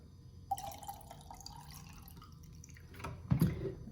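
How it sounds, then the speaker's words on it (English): Tap water trickles and drips into a small jar for rooting sweet potato slips, a thin pouring stream that builds to a fuller splash near the end, close and quiet. "I just stick it in a little jar like this and then fill it up with water."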